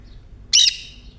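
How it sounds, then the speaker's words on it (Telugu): A single short, bright chirp from a sparrow outdoors, clear and fairly close, standing alone against a quiet low background hum. "అదిగో పిచ్చుకలు అరుతున్నాయి బయట."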